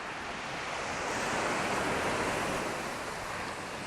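Waves wash onto Bangtao beach in Phuket, a broad steady roar of surf that swells and eases over a few seconds, close and loud with wind noise and no voices.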